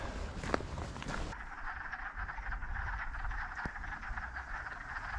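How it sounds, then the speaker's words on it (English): Chorus of spring peepers calling in a lowland near Sassaman Notch, a dense steady peeping that carries on throughout at moderate volume with no talk, one louder burst near the start and a brief tap partway. "Somebody say spring peepers?"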